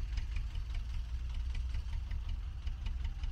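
A tractor's diesel engine, sputtering as it runs low on fuel, idles with a low, uneven rumble and faint knocking, running alone without voices.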